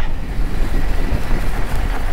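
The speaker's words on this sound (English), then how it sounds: "And it is windy up here." Steady low buffeting rumble of wind battering a microphone while mountain biking near Stanley, Idaho, constant and loud throughout with no voices.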